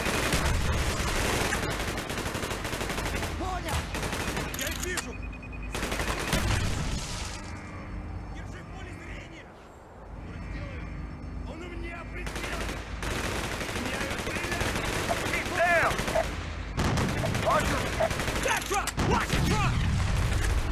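Dense bursts of Call of Duty: Black Ops gunfire and booming blasts fill most of the stretch, with a brief lull midway before heavy rapid fire resumes, loud and sustained.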